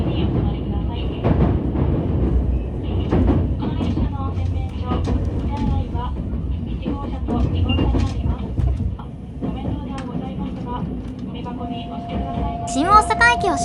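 The Mahoroba limited express runs from Shin-Osaka toward Nara on the Osaka Higashi line, giving a steady low rumble with rhythmic wheel clicks on the rails, heard from on board. A voice talks over the running noise.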